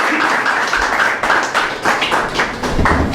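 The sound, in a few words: congregation applause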